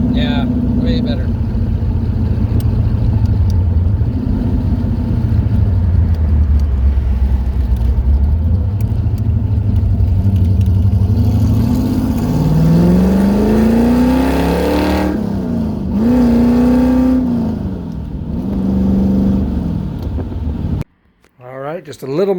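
A 1969 car engine fitted with a new Holley Ultra Street Avenger carburetor idles close and loud, its low rumble drifting gently up and down in pitch. A voice can be heard over part of it.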